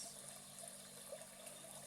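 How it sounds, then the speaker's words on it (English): Spring water from high in the mountains flows in a steady, soft, even rush with faint trickling detail, quiet and unbroken, with no voices. "This water is coming live from the top of the mountains."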